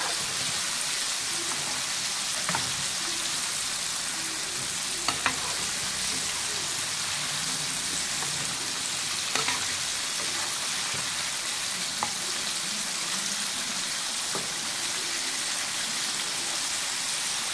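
Chicken pieces fry in a pan with a loud, steady crackling sizzle, punctuated by a few soft clinks and scrapes as pieces are turned one by one.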